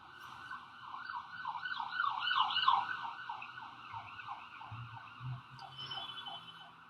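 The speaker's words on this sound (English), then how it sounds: "a siren screams by my window" Emergency siren passing outside a window: a wailing, rising-and-falling electronic tone, moderately distant and muffled, swelling louder midway and then fading, with faint low thumps nearby.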